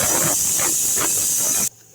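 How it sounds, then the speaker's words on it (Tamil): A pressure cooker whistle blasts out steam while chicken cooks, a loud, close, pulsing hiss that stops abruptly after under two seconds. "ஒரு விசில் வந்துடுச்சிங்க"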